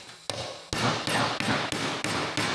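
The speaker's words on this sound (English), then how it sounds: "You're gonna slowly work from the inside, kind of around it, hammering it together." A sheet metal body panel resting on a bed of sand is struck with a hammer, about eight sharp, loud blows in an even rhythm, close by with no talking.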